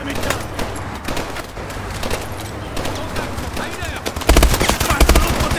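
Gunfire in Call of Duty: Advanced Warfare, with dense rapid automatic bursts that grow louder near the end and voices talking over the shooting.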